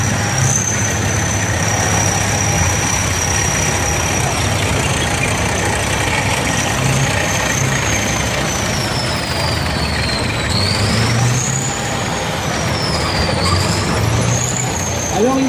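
Soviet 2S1 self-propelled 122 mm howitzer, an amphibious tracked vehicle, with its engine running loud and close, a steady heavy rumble and a whining high tone that rises and falls.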